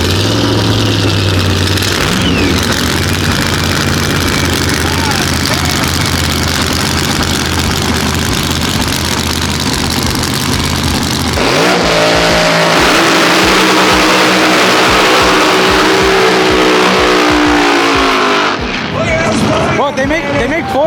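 Nissan GT-R cars with roughly 2000-plus horsepower builds rev hard and loud at a TX2K event, a continuous roaring engine din with surging pitch and crowd noise underneath, easing near the end.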